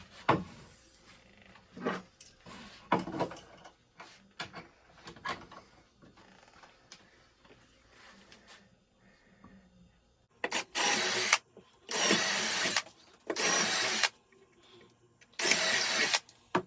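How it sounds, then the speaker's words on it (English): Several loud, sustained bursts of high-pitched power drilling through a vintage snowboard plate near the end, separated by short pauses, following quieter handling and scraping sounds. "we're going to drill them out."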